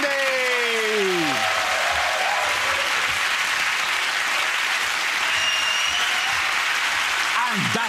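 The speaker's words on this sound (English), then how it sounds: "again, that round of applause to Russell, Zoe and Andy" A studio audience at a TV comedy panel show applauds continuously, loud, dense and even, while a voice at the start speaks over the clapping.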